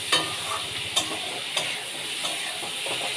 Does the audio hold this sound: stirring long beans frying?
yes